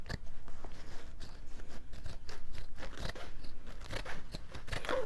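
Scissors cut paper for a journal cover: a rapid, uneven series of close crunching snips and rasping slices continues for several seconds, with no talking.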